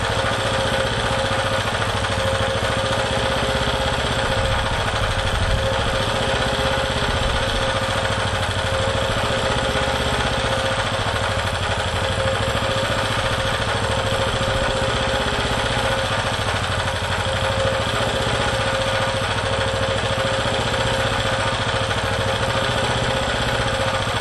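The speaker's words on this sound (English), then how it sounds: "You can hear it running out of the gasoline fuel." Gasoline generator running on HHO, a continuous loud mid-pitched engine drone that holds steady throughout as the fuel runs low, close by with no voices.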